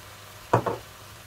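Mushrooms for an omelette frying in a pan, stirred once to give two short, soft sizzling bursts against a quiet background.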